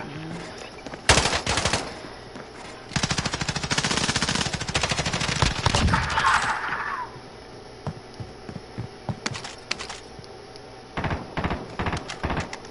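Video game gunfire, with bursts of rapid automatic shots and scattered single cracks spread over several seconds and a steady low hum underneath, with no talking.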